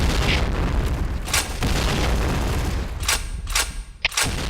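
Grenade blasts in the Point Blank shooter game: heavy booms amid continuous gunfire, with several sharp bursts toward the end.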